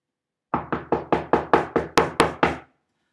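Ten quick, evenly spaced knocks on a door, sharp and loud, each with a short decaying thud, landing in a steady rapid rhythm over about two seconds with no talking.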